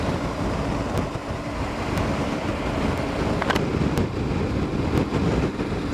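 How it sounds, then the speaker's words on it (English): Steady, loud wind buffeting on a motorcycle ride along German roads, a constant broadband roar with occasional short clicks and thumps. "It's pretty windy."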